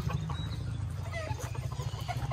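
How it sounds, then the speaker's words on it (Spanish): Hens clucking on a farm where game fowl are kept and separated by bloodline, with soft, scattered clucks and calls heard faintly over a low steady background hum. "las gallinas"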